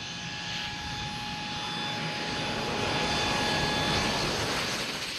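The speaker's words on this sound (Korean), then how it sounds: "비행기가 착륙을 시도했다" A jet airplane roars overhead as it comes in to land on a short airport runway, a loud steady engine drone with a whining tone that swells slightly as it passes close by.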